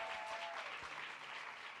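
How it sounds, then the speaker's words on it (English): A crowd at a community singing event gives a round of applause for volunteers, continuous clapping at moderate distance, steady and unbroken for the short stretch. "Can we get a huge round of applause for all the volunteers we saw?"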